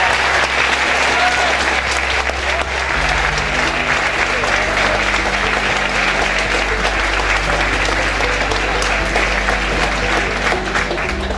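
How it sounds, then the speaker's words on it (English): Sustained audience applause at a high school mock crash event, dense clapping from a large crowd over a steady low hum, continuing for more than ten seconds. "Give him a round of applause."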